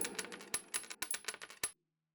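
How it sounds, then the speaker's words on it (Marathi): Coins clink and jingle in a quick series of bright metallic taps, close and fairly quiet, then stop abruptly. "त्याच भांड्याने त्यांनी नाणी मोजायला सुरुवात केली"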